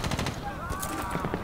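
Enemy gunfire in the 2010 Medal of Honor video game, a dense burst of rapid shots crackling over game ambience while someone talks over the action.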